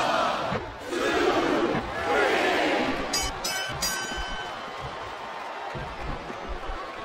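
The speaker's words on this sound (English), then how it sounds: "This compassionate crowd is making their opinions known tonight!" A large arena crowd in a wrestling video game roars and cheers loudly, swelling and fading, with a brief higher-pitched burst partway through.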